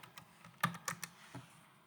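Several quiet keystrokes on a computer keyboard come in a short, uneven burst, close by with no voices.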